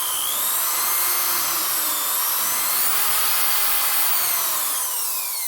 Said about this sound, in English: So when I'm drilling, I don't necessarily need to get a larger drill bit